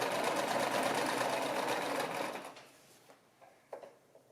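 A domestic sewing machine stitching the seam of a baby romper, pedal-driven, runs as a fast steady buzzing whir for about two seconds, then slows and stops, leaving a few soft clicks and taps nearby.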